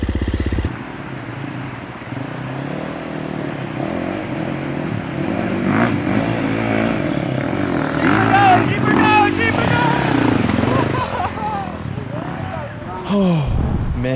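A dirt bike engine drones steadily throughout a ride in American Fork Canyon, loud and close with shifting revs, while people talk over it.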